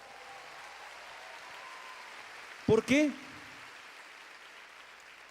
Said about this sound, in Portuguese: Dê um aplauso pelas mulheres.